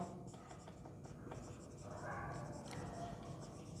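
Pen writing on paper during a math lesson on counting outcomes: soft, scratchy strokes close by, steady and faint against a low background hum.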